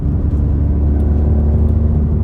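Inside the cab of a Ford F-series truck accelerating at half throttle, a loud, steady low engine drone blends with road rumble throughout.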